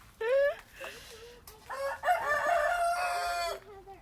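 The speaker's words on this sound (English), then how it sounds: "We hear you, rooster." A rooster crows loudly nearby, a short call followed by a longer drawn-out crow, with brief background voices in between.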